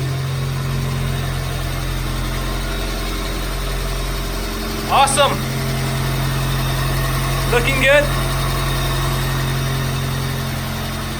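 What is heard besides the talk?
car engine idling after starting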